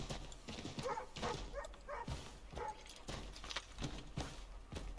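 A loose dog barking in an Assassin's Creed III village, repeated sharp barks at an uneven pace alongside clip-clopping horse hooves, moderately close in the game's ambience.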